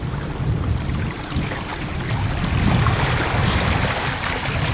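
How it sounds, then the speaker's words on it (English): A continuous low engine rumble and water wash from boats fill the background, steady and fairly loud with no voices. "as you can probably hear in the background, there are still those boats"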